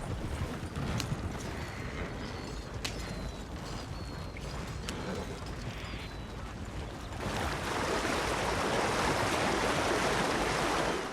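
Dakota River flowing into Flatiron Lake in Red Dead Online, a broad rushing wash of water that swells louder partway through, under steady horse hoof clops.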